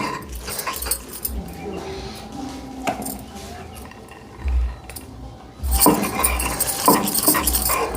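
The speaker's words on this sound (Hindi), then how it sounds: "तो ये लास्ट बारी के भट में इस सिलबट्टे पर पीस रही हूँ" Soaked bhatt (black soybeans) are ground by hand on a stone silbatta for an Uttarakhand pahadi dish, giving rough, repeated scraping strokes that swell louder near the end, with a voice talking over parts of it.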